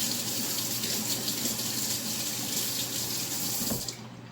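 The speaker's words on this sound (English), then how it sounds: "So let me rinse my spoon, my fork, one more time, just to make sure." Steady running tap water pours into a sink as a spoon and fork are rinsed beneath it, continuous and fairly close before cutting off near the end.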